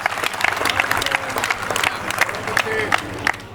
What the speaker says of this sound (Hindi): एक बार दोनों हाथ उठाकर जोरदार तालियां बजाएं डॉक्टर आदित्य जैन आपके लिए